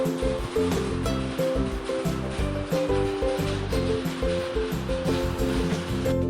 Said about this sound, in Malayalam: നമുക്ക് ആവശ്യത്തിന് വെള്ളവും അതേപോലെ തന്നെ ഉപ്പും ചേർത്ത് നന്നായി ബോയിൽ ചെയ്തെടുക്കാം